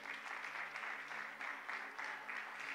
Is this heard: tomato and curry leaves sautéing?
no